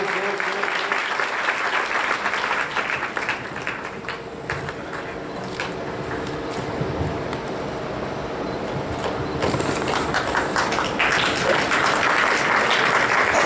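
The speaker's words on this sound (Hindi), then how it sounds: "एक बार तालियां बजाएं जोर से" Loud, sustained audience applause fills a satsang grand finale award ceremony hall, dense clapping continuing throughout and swelling toward the end, with some voices underneath.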